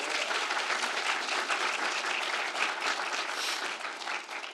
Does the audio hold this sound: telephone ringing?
no